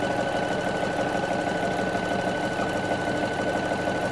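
A sewing machine sews a wide white satin stitch around an appliquéd circle, a loud continuous whirring hum that holds steady and close throughout with no voices.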